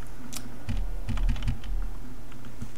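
Keystrokes on a computer keyboard used to drive a Linux desktop's cursor, a close, loud burst of clicks in uneven clusters with short pauses between, alone without talk.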